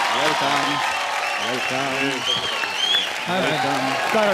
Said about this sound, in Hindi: जोरदार तालियां हो जाए आलिया, सिद्धार्थ और फवाद के लिए।